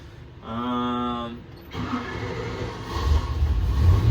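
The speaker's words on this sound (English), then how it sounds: "we'll start up Tom's motor" Tom's 407 cubic inch pump gas engine with a carburetor cranks with a steady whirring starter, then catches and settles into a rough, rumbling idle that swells louder, close up with a voice briefly heard.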